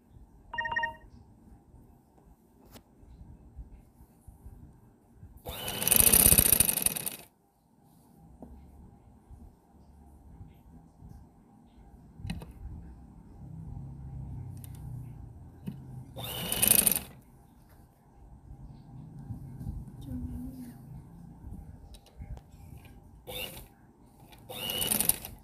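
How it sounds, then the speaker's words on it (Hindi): Sewing machine stitching a velvet cowl kaftan gown, with a few short, loud bursts of rapid stitching separated by quieter stretches of handling noise and someone speaking softly. "मैं इसको पिंस नहीं लगा, इसको स्टिच करने लगी हूँ।"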